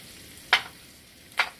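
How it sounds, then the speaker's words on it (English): Dried thyme, bay leaves, marjoram and chili powder are stirred in olive oil in a pan, heard as two brief scraping strokes of a utensil over a faint, quiet background. "I'm going to stir them around for about 1 minute so that they can really release their flavor into the olive oil"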